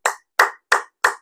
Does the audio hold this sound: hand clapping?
yes